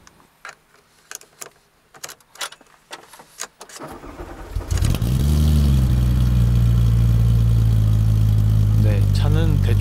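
A Porsche 911 GT3 RS of the 997 generation with a manual gearbox cranks and fires up after a few seconds of scattered clicks and handling noises, then settles into a loud, steady idle with a brief rev.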